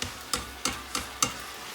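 Spaghetti with baked garlic being stirred in a pan for aglio olio e peperoncino, five soft scraping strokes at a steady rhythm, close and fairly quiet with no talking.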